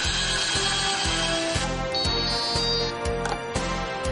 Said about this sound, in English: Close the cover, and then it is automatically stripped.